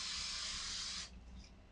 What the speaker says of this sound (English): what you want to do is you want to spray the hair